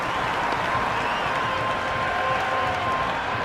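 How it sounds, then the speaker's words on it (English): Cricket video game crowd at an IPL T20 match between LSG and RCB cheering and applauding after a boundary four, a steady, dense wash of crowd noise with a faint whistle-like tone, continuous and fairly loud throughout. "Crowd love that one."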